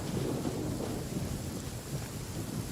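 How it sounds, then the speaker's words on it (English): Rain and thunder in a video game: a continuous dense wash of rainfall with low rumbling thunder underneath, steady and fairly loud throughout, with no talking. "And apparently it started raining."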